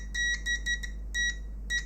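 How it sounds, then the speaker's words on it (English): A 1990s multimeter beeping on continuity as its probes touch a laptop circuit board, five or six short, sharp, close beeps in an irregular rhythm, with no talk over them. "It's beeping, okay?"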